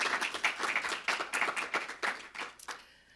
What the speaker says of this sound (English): 3 rounds of applause.